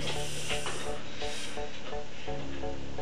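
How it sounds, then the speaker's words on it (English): An aerosol can hisses out spray in a few steady bursts, close and fairly loud, over a continuous bed of background music. "Spray the webcam."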